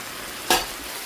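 Chicken cooking in a soup pot for a mung bean dish gives one short burst of stirring or sizzling, close and fairly loud, then fades back into a steady low hiss.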